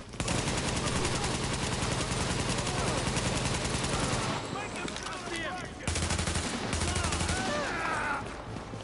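Rapid bursts of automatic gunfire rattle almost nonstop in a firefight in the video game Tom Clancy's The Division, with brief pauses near the middle and voices talking over the shooting.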